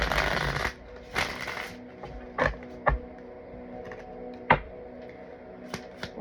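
A deck of playing cards is riffled and shuffled at close range: a couple of short papery bursts, then scattered light clicks and taps.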